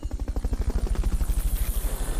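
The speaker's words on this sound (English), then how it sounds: "Fulton recovery helicopter is complete." A Fulton recovery helicopter in the video game Metal Gear Solid Peace Walker, its rotor thumping in a fast, even rhythm, loud and close, with nothing else audible.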